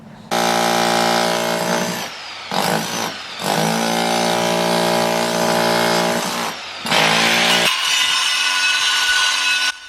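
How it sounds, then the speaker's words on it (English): Loud, continuous whine of a power saw cutting through concrete for brickwork, running in long sustained bursts with brief pauses and changes in pitch as the blade bites, close to the microphone. "We're cutting it down so that we can get a course of bricks in level with the ones that you can see here."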